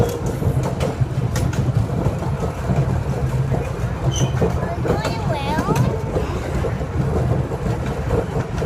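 A kids' miniature train rolls along its track in Griffith Park with a constant rumble and faint rhythmic rattling from close by. Voices talk over the running noise.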